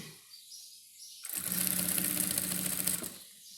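A sewing machine stitches a wallet in one steady, fairly loud burst of about two seconds, with quiet room sound before and after.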